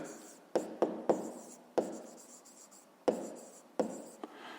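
Handwriting on paper while working a school math problem, with a series of crisp tip taps followed by soft scratchy strokes, near and faint.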